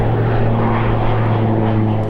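A propeller airplane, one of the planes flying in and out of Las Vegas, drones steadily overhead, a loud continuous engine hum with low tonal bands and no voices.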